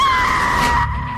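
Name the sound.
woman screaming hysterically in fear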